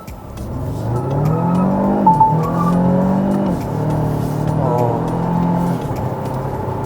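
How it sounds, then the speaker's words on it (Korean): A 2022 Renault Samsung SM6 midsize sedan in sport mode accelerates hard from close by, its engine note climbing through rising gear sweeps while the tires briefly squeal and slip, with no talking. "살짝 타이어 헛도는 느낌도 들면서 근데 또 그립감은 또 완전히 잃지 않고 바로 회복을 해서 빠르게 치고 나가는 모습을 볼 수 있었는데"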